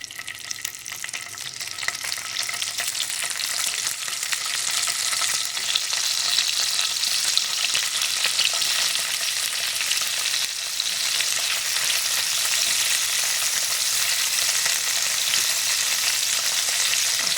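Paneer frying in ghee in a pan gives a steady, dense sizzle that holds fairly loud and close for the whole stretch, with no talk over it.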